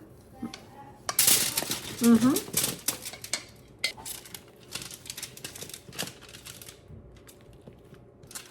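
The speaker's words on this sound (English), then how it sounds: "you'll want to give your Brussels sprouts a good stir with a spoon to make sure they get fully coated" A spoon scrapes and clinks against a dish while Brussels sprouts are stirred in olive oil, giving a cluster of sharp metallic knocks and clatter followed by lighter, scattered taps.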